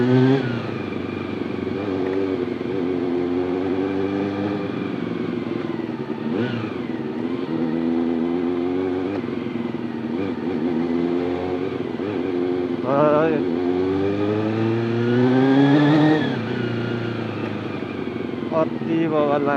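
Close, loud revving from a superbike engine, rising and dropping in repeated throttle sweeps, with a voice talking over it at times.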